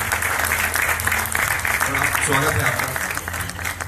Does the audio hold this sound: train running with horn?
no